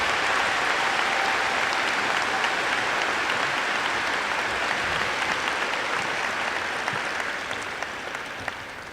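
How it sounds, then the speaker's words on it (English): A high school graduation crowd applauds steadily for the full stretch, a dense, loud wash of clapping that thins slightly toward the end. "Class of 2018, make your applause loud and clear for Dahlia Mujahid."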